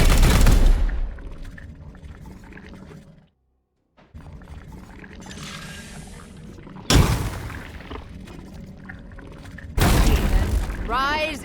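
Heavy weapons fire in the Warhammer 40000: Chaos Gate - Daemonhunters game booms out in three loud blasts spread over several seconds, with a brief silence between, rumbling tails after each and voices in the mix.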